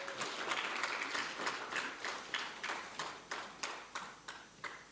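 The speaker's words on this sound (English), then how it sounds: "Let's give him another round of applause." A reunion audience of the 1975 University of Zambia law class claps for their professor, a steady, fairly even round of applause heard from a distance that fades in intensity toward the end.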